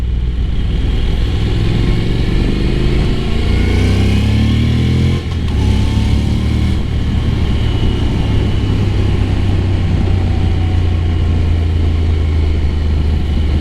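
A Honda NC750X motorcycle engine runs loud and close as a steady, low drone, with pitch sweeps rising briefly as it pulls before settling back into a constant roar.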